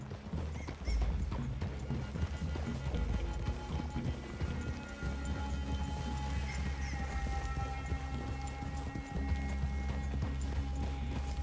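Horse hooves clip-clop in a steady, continuous trotting rhythm in the video game Red Dead Redemption 2, loud and close, with a low rumbling background throughout.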